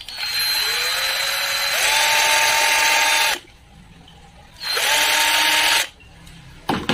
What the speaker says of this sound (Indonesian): kita bor dulu.